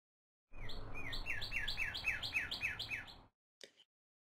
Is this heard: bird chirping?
yes